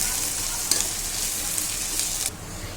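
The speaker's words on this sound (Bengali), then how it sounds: "পেঁয়াজগুলো হালকা বাদামি করে ভেজে নেব।" Chopped onions frying in hot oil with bay leaf, dried chili and whole garam masala, a loud, steady close-up sizzle with brief stirring scrapes, stopping abruptly near the end; no voices.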